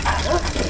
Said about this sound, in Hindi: कुछ कुत्ते राजेश की साइकिल को देखकर भौंकने लगते हैं।